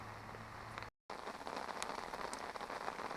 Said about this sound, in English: as you can hear, the rain is absolutely tipping it down.